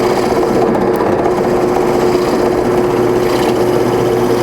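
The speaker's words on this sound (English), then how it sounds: "I'll just drill a hole and show you" A drill bores a hole in a home workshop, its steady, loud motor whine and grinding rasp of the bit running continuously and close without pause or talk.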